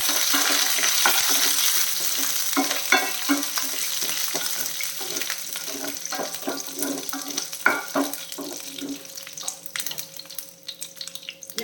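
Curry leaves fry in hot oil in a pan, giving a steady close sizzle for the whole stretch, broken by frequent scraping and clinking as the spoon stirs. Nobody speaks.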